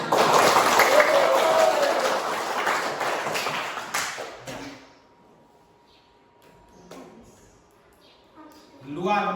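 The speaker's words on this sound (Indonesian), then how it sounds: "Tepuk tangan." Classroom of students clapping after a teacher's quiz question, a dense burst of applause for about four seconds that fades out, followed by quieter room noise and a voice speaking near the end.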